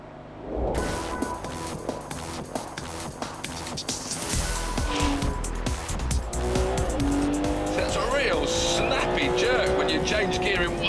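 Ferrari 599 GTB Fiorano driven hard around a circuit, its engine roaring loud and close through rising revs and gear changes, with tires squealing in bursts and a voice speaking over it.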